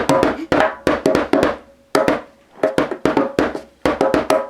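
Djembe struck with knuckles and elbow in quick rhythmic bursts, sharp knocking hits in groups with short pauses, close and fairly loud.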